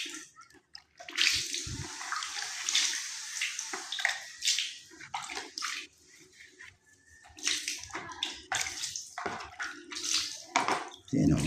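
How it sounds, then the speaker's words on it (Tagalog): Water poured out over a dry surface in bursts, splashing and hissing close by, with pauses between pours and faint voice sounds in the background. "Bubuhusan natin ng tubig"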